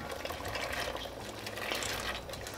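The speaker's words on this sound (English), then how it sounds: "we're gonna go ahead and add our pinto beans in at this point" Soaked pinto beans tipped into a pot of water give a continuous splashing, sloshing pour, close and moderately loud, with no talking.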